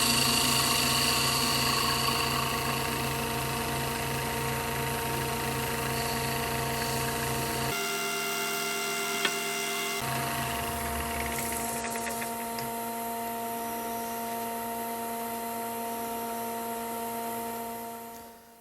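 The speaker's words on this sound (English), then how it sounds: "using a push cut to put a nice dish in the bottom of the bowl" A wood lathe push cut dishes the bottom of a wooden bowl, giving a steady whirring hum with tonal motor drone and light cutting hiss, briefly dropping and resuming, then fading out at the end.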